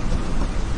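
Heavy rain pours down in a scene from the film Kappela, a short, dense, steady wash of noise with no voices over it.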